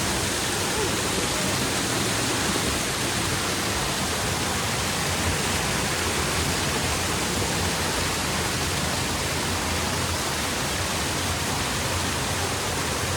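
Lihonjar Waterfall in Karbi Anglong pours with a steady, dense roar of rushing water, loud and unbroken throughout, with no pauses or clear voices above it.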